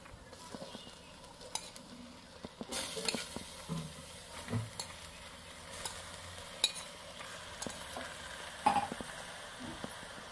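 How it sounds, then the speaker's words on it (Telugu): Washed mutton goes into a hot pan for curry, followed by a soft sizzle with scattered spoon clinks and stirring knocks, louder after the first few seconds; no talking. "ఇప్పుడైతే మనం కడిగి పెట్టుకున్న మటన్ వేసుకుందాం."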